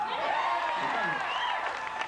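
A large crowd at a 1984 concert applauds and cheers continuously, a broad wash of clapping with shouts and whistles rising over it, while a voice on stage carries through.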